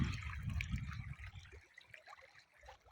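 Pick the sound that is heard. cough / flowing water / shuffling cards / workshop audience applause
flowing water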